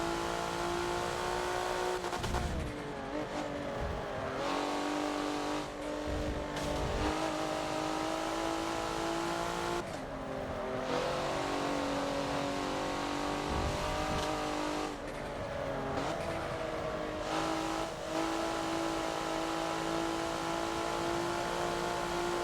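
Porsche Macan engine in a Forza race at Road Atlanta, a loud sustained engine whine that climbs in pitch through the gears with repeated shifts and brief lift-offs, over roughly twenty seconds of continuous driving.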